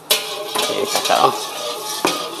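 A spatula stirs kway teow noodles in a metal pan, giving a few sharp clanks and scrapes against the pan over a short, busy stretch.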